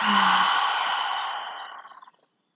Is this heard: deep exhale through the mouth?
yes